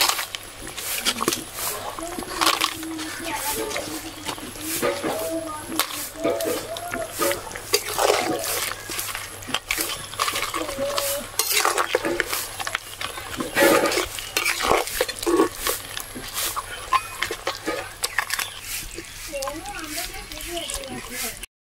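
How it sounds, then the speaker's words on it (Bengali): Papads being stirred into a simmering Bengali kalia gravy in a pan, with steady scraping and clinking of a utensil and soft sizzling running throughout, under a constant low background hum. "এবারে পাঁপড়গুলো দিয়ে দেব।"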